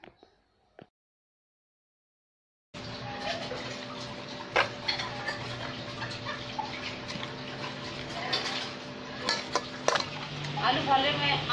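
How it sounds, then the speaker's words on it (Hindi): Salt, ajinomoto, garlic leaves and onion mixed in a pan, a couple of faint taps and near silence before a steady sizzle starts, then repeated spoon scrapes and clinks against the pan, close and moderately loud. "अब इसको अच्छी तरह से मिक्स कर लो।"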